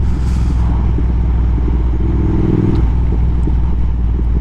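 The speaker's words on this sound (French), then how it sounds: "Elle a un gros bicylindre de 1200 cm3 à 97 chevaux" A Triumph Speed Twin 1200 motorcycle with a 1200 cc twin-cylinder engine rides over a rough, bumpy road, producing a loud, continuous engine rumble mixed with clattering and wind buffeting and no talk.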